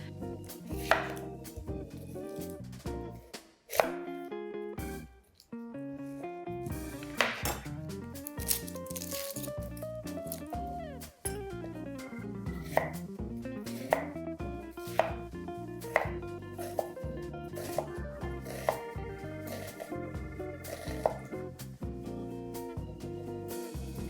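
Knife chopping half an onion on a cutting board, steady rhythmic close taps over a background of music, with no talk.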